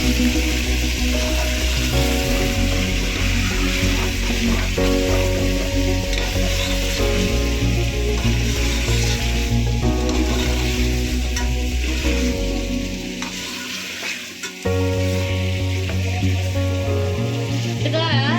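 Chicken biryani ingredients, with tomatoes just added, fry in a pan and give a continuous sizzle with repeated stirring scrapes, partly under loud background music.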